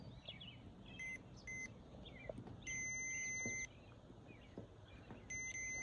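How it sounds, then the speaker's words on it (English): A digital multimeter on continuity mode, used while repairing an air conditioner, gives several sharp electronic beeps when its test leads touch: short chirps, then one held tone of about a second, then another short beep, over faint background hiss. "if you touch your leads together, it goes beep on this one"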